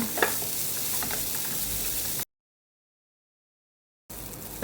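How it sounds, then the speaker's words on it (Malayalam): Flattened rice (aval) with grated coconut roasting in a pan gives a steady close sizzle with light scraping stirs, broken by a gap of silence before the frying noise returns. "ഈ തേങ്ങയുടെ ഒരു വെള്ളമയം പോകുന്നിടം വരെ ഒന്ന് ജസ്റ്റ് ഒന്ന് ഫ്രൈ റോസ്റ്റ് ചെയ്തെടുക്കുക"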